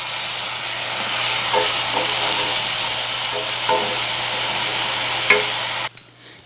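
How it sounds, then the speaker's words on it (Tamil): Ground tomato paste goes into onion, ginger and garlic frying in oil for a Tamil mushroom masala, a steady broadband sizzle with occasional stirring clinks, close and loud, cutting to quiet near the end. "இப்போது நம்ம அரைச்சி வச்ச தக்காளி சேர்த்துக்கலாம்."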